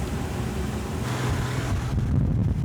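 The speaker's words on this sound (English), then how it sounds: "Very windy, I'm not sure how well you can hear me." Wind buffets the microphone at a lakeshore in a continuous low rumble, gusting stronger toward the end, with no voices.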